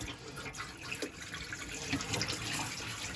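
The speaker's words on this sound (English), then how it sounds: "pour down another watering can full of water down the sink" A watering can of water is poured steadily down a motorhome sink, giving a continuous close gurgling splash that lasts throughout.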